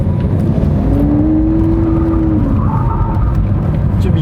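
A Lamborghini Aventador S, driven in a slide test with stability control on, holds a loud, steady engine roar with a tire whine that rises and falls under it, close and continuous.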